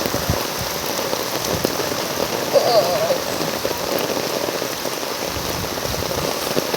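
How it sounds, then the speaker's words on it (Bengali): A heavy downpour hisses steadily with drops pattering on surfaces nearby, and a faint brief sound rises briefly midway through. "প্রচুর বৃষ্টি পড়তেছে।"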